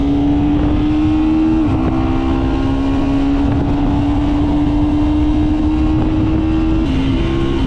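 A KTM Duke 125 motorcycle engine runs at a steady raised rev, a loud, close, even drone with slight dips in pitch and no voices.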